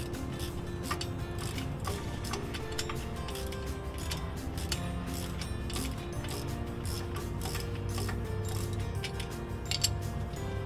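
A 14 mm ratchet wrench loosens the stock differential breather fitting underneath a Toyota Tacoma or 4Runner. Close, rapid ratchet clicking repeats in quick bursts over a dull background rumble.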